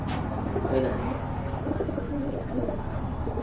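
Pigeons kept for sale at a market stall, including a hen, give soft low cooing throughout, set against a busy background of people talking nearby.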